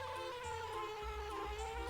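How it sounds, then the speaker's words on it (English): A steady, droning bee buzz from the video game Banjo-Kazooie hums continuously with a slightly wavering pitch, close and fairly loud, with no voices. "That flight noise is fucking obnoxious. Yep, that's bees."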